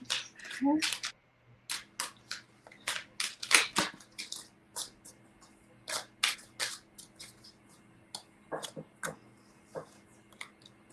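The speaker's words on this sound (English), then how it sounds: "I'm going to start shuffling." Tarot cards riffle and snap in quick bursts, shuffled repeatedly with short pauses between rounds, close and fairly crisp, with a voice briefly heard at the start.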